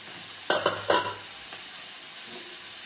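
An egg cooks in a pan with a quiet sizzle, broken by a quick cluster of clattering scrapes of a utensil on the pan near the start and one faint tap later. No talking.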